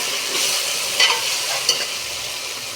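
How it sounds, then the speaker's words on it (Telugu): Raw prawns and okra being stirred in a hot pan: a continuous bright sizzle with a couple of soft utensil knocks against the pan, no talking. "అదిగోండి పచ్చిరొయ్యలు వేసి కలుపుతున్నాను"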